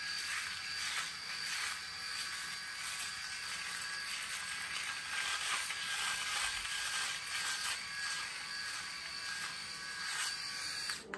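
Steady buzzing drone of an Oraimo Smart Shaver 2 electric shaver cutting hair, close and continuous for the whole stretch, with no talk over it.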